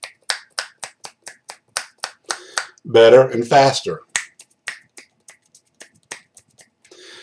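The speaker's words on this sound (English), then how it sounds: "Snapping my fingers." Fingers snap in a crisp, steady series of sharp clicks close to the microphone, pausing briefly while a person talks, then resuming at a similar pace.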